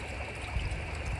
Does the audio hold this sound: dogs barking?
no